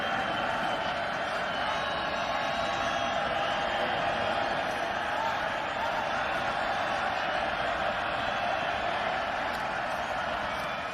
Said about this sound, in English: Been a good crowd tonight, and they're loud